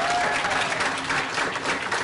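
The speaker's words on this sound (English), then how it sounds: "Give him a round of applause." Audience applause for Serj Tankian at a Q&A event, a short, soft and steady patter of clapping from a crowd, heard a little distant with faint murmur.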